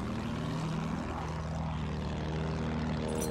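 A propeller airplane engine from the video game Battlefield 1 drones steadily for a few seconds, a continuous buzzing hum with no breaks.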